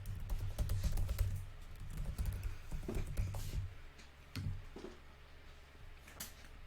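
Fingers tap out an email address on a computer keyboard in a steady run of quick, close keystrokes, with a low hum underneath and a brief pause partway through before a few final taps.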